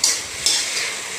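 A pan of mushrooms and roselle leaves fries with a loud, steady hiss and a couple of sharp sizzle flares, close up and with no voices.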